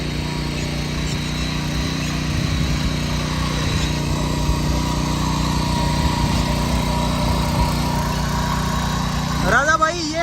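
A power tiller fitted with a harrow bed maker runs steadily in a field, its engine droning at a constant pitch for the whole stretch, loud and close, with a brief surge near the end and people talking nearby.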